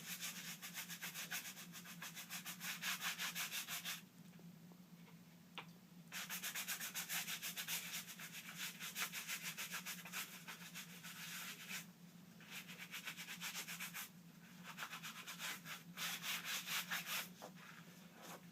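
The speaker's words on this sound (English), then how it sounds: "I dampen the brush, shake off the excess, and brush it into the surface of the fabric" A damp brush scrubbing Blanco into British webbing fabric, a close, continuous bristly rasp of rapid strokes running in long bursts with brief pauses between.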